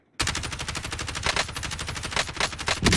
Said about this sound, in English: One shot in the air.